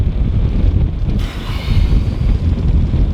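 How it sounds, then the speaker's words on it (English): Strong wind gusts buffet the microphone at a marina dock in Georgetown, a loud, constant rumbling roar that swells and surges throughout. "We might have to hold off for a bit because this wind is kind of gusting."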